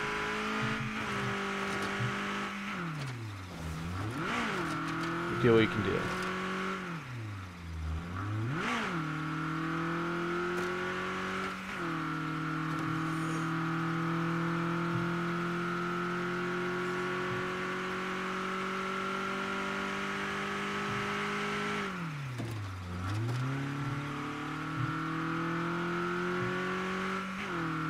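Engine of a car driven in the video game State of Decay 2, a steady droning hum with repeated rev dips and gear-shift sweeps, loud and continuous throughout, with a brief spoken line over it.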